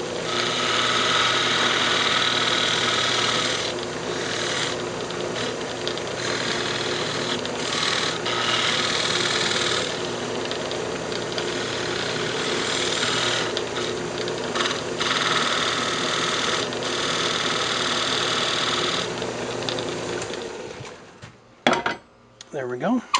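On a wood lathe, a tool cleans out the inner wall of a turned lidded box, a continuous whirring scrape with rhythmic bursts of cutting that stops near the end with a few clunks.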